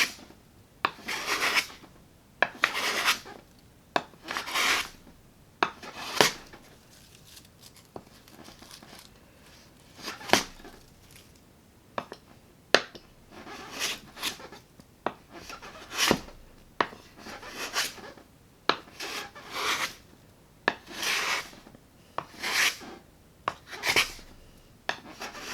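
A Veritas standard angle block plane shaves wood veneer in repeated rasping strokes, about a dozen crisp, close passes at an uneven rhythm with short quiet gaps and no talk.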